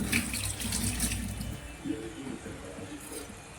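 Fresh coriander is rinsed under a running kitchen tap while masala paneer is being made: a steady, close stream of water splashing into the sink, with a wet squish as the leaves are handled.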